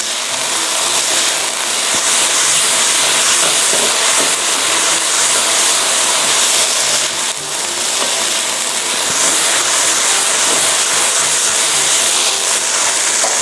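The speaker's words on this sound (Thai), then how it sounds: "ทีนี้ก็ผัดให้เข้ากันอีกครั้งหนึ่งนะคะ" Pork stir-fried with chili and shredded kaffir lime leaves for a dry Thai curry, producing a loud, unbroken hissing sizzle close to the pan for the whole stretch, without speech.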